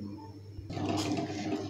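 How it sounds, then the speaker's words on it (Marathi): Salted water coming to a boil in a pot for eggs on a gas stove; a low hum breaks into a steady bubbling rush after a moment. "इथे बघू शकता पाण्याला उकळी आलेली आहे"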